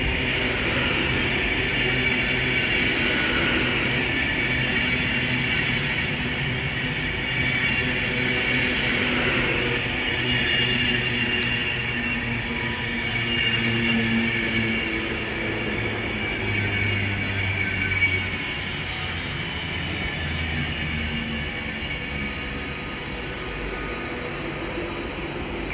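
A nine-coach Avanti West Coast passenger train bound for Liverpool Lime Street rumbles through Stafford station on the West Coast Main Line, a sustained mid-distance drone of engine and wheels that slowly fades.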